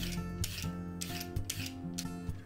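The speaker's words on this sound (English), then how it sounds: "So I want you to peel your carrots." Carrots are scraped with a hand peeler in a run of short, rasping strokes at a fairly quick, uneven rhythm, close and clear with no talking.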